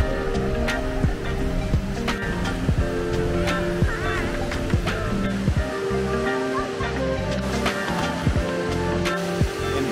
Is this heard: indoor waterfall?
yes